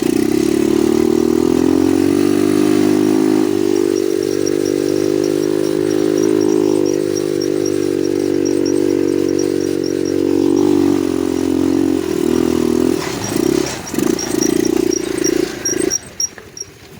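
A quad bike engine pulls a loaded trailer, droning loud and steady with a strong low hum. Near the end the engine note shifts and surges unevenly as the load changes.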